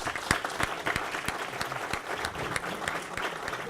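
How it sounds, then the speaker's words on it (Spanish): Audience applause at a book presentation on crime and public safety in Peru, welcoming Gino Costa: a moderate crowd clapping in a fairly quick, uneven rhythm with distinct individual claps, fairly quiet and without talk. "Recibimos con fuertes aplausos a Gino Costa."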